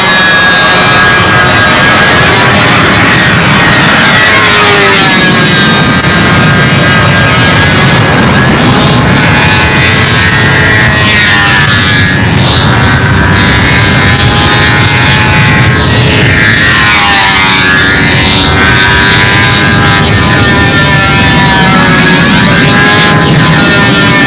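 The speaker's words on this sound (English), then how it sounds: "Listen to that motor run. Wow, little tune pipe motor run." A small high-revving model airplane engine with a tuned pipe screams continuously and loudly, its pitch rising and falling as it passes overhead with a strong Doppler sweep.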